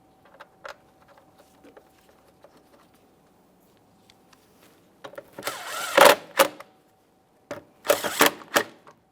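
Tightening mounting bolts on a 2008–2017 Mitsubishi Lancer engine gives sparse, faint metallic clicks and ratchet-like rasps at first, then louder bursts of ratcheting and clattering in short clusters near the end.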